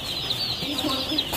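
Chickens on a poultry farm housing around a thousand birds, a steady murmur of clucking and soft calls from a flock, close and continuous with a high chirping chick-like layer above.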